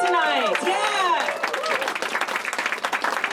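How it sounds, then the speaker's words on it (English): Loud, dense clapping from a comedy-show crowd, mixed with cheers and voices at first, then settling into steady, crackling applause that fills the room. "Round of applause for Longmont Out Loud, LOL, for making this happen tonight"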